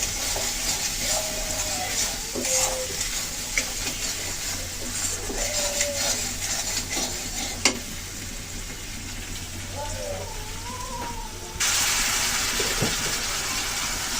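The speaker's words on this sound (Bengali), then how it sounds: "হালকা একটু জল দিয়ে আমি এখন আস্তে আস্তে কষাতে থাকবো অল্প জালে" Spices with turmeric and a splash of water stir-fry over a low flame in a pan for Bengali koi fish curry, making a steady soft sizzle with occasional spoon scrapes while someone talks over it.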